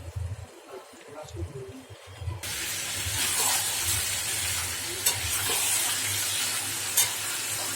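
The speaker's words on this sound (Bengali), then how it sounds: "কষে কষেই মাংসটা সেদ্ধ হয়ে যাবে" Chicken being stir-fried kosha-style in a pan, first a low murmur with a voice, then a sudden loud, steady sizzle with stirring scrapes and occasional sharp spatters for several seconds.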